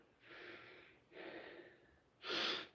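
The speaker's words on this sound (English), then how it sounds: "Heavy breathing." Heavy breathing during a live shoulder and chest strength workout: three loud, breathy exhales or gasps in close succession, the last one strongest, with no speech.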